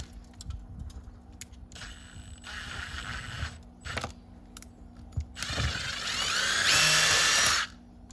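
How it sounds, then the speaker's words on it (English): A power drill with a poorly cutting bit whirs in short bursts, then runs in one long, loud stretch near the end, with clicks and handling noise between runs while mounting an outdoor GFCI receptacle box. "This drill bit is terrible."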